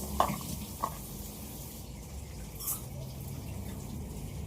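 Eggs frying in a pan give off a steady, soft sizzle. Faint clicks and stirring noises sit on top, and there is no talking.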